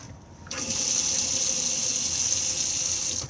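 Tap water pours steadily into a caravan washroom basin, a loud, close, continuous hiss that starts abruptly after a brief quiet moment and runs to the end.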